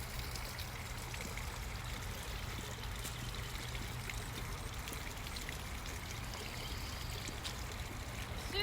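Water pumped up from a well through drilled rock pours and trickles steadily in an outdoor garden, a continuous close splashing flow with no talking.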